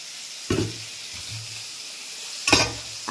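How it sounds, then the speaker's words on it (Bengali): Koi fish fry in a pan in a home kitchen, a faint steady sizzle punctuated by two sharp bursts of spattering and clatter as the pieces are stirred or turned, close by. "আর এখানে বোন রান্না করছে কই মাছ, এই যে ভাজা হয়ে গেছে, এখনো ভাজা হচ্ছে।"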